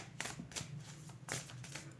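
A deck of playing cards is shuffled in short riffling bursts, a few quick crisp flurries spaced across the moment, close and fairly quiet.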